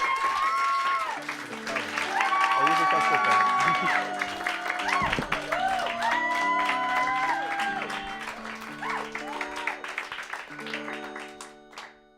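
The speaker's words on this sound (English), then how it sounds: "Yeah, you can clap." Audience clapping at a live comedy show, a continuous patter of many hands running under overlapping voices and laughter, fading out at the end.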